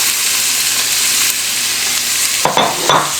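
Chopped carrots and onion hit a hot pot and are stirred, making a steady close sizzle with a couple of sharper scraping stirs near the end.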